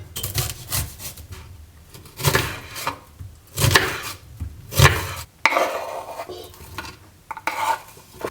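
Onions being chopped with a knife for chili con carne burritos: a series of rough cutting and scraping bursts in irregular rhythm, close and fairly loud, with no voices.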